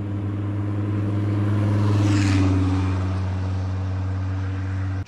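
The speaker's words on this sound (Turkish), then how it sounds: "Çok araba geçti." Cars pass along a rural road near a picnic spot at Güre Kızılkeçili, Balıkesir, with a steady engine rumble that swells to one closer pass midway and then fades.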